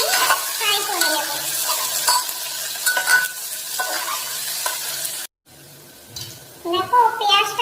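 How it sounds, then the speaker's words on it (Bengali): Chopped onion frying in a pan for a mutton dish, a loud steady sizzle with spatula stirring and scraping close by, a brief cut to silence, then more sizzling, with a voice talking over it. "এবারে পেঁয়াজটা আমি ফ্রাই করে নেব।"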